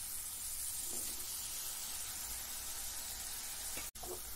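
Chopped tomato cooking in fried spice masala for a potato-parwal sabzi gives a steady, even hiss and sizzle throughout, with a short dip near the end and no voices.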